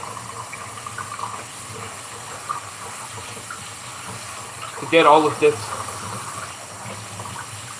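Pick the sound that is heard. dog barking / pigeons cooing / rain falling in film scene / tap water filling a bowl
tap water filling a bowl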